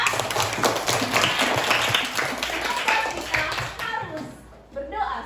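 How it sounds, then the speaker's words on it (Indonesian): A class of students claps hands together in a classroom, a loud, busy round of applause that thins out and fades near the end, with children's voices mixed in. "Ayo tepuk tangan untuk kita semua."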